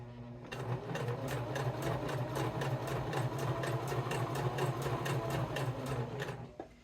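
A sewing machine stitches rope around a curve while making a heart-shaped coaster, running steadily and loud with a fast, even needle rhythm and a low motor hum for about six seconds before stopping.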